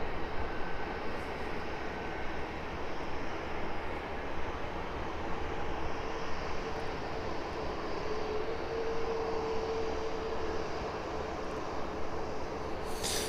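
Aircraft on approach to an airport during morning operations, a steady broadband jet roar sustained and moderately distant throughout, with no talk.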